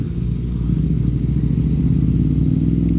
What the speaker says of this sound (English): there's a fuck ton of bikes